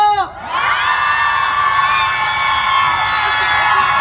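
A concert crowd at the Uiseong National Geopark certification concert in Korea bursts into loud, sustained cheering and high-pitched screaming that swells in right away and holds without a break.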